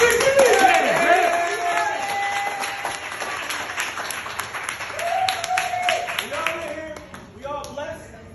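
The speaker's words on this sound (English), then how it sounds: "Vicky, clap it up for Vicky!" Office marketing team clapping and cheering for a colleague in a Philadelphia workplace, a burst of scattered hand claps under loud excited voices and tonal whoops, tapering off over several seconds.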